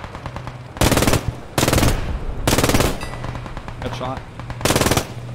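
Automatic machine gun bursts from the World War II shooter Squad 44, loud rapid volleys in four separate strings, a brief spoken word heard between them.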